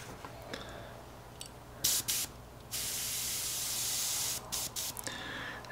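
A spray can hisses in several short bursts and one longer sustained blast, coating 1/72 scale U-boat model parts dark gray at close range with no talking.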